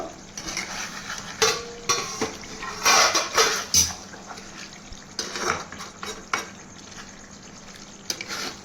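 A lid is lifted and a spoon stirs liver and kidney cooking over a low flame in a pot. Metallic clanks and scrapes come in irregular bursts over a faint sizzle, close and fairly loud, with no talking.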